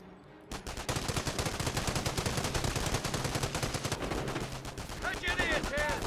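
Dense, continuous gunfire and machine-gun bursts pound a forward emplacement in Company of Heroes, a World War II strategy game, with rapid shots layered over booming impacts and a commentator talking throughout.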